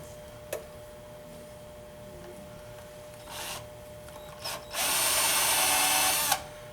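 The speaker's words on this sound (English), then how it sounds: "So I just bring out the drill a little bit more." A power drill boring into a spike star ornament whines steadily for about a second and a half near the end, after a few short bursts and a faint click earlier on.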